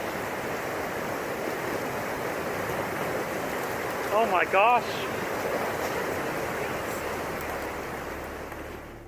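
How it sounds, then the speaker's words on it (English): A massive wave of ice and water rushes down a river and under a bridge, a steady broad roar of churning water; a startled voice exclaims briefly over it midway. "A massive wave of ice and water comes rushing down the river and under a bridge"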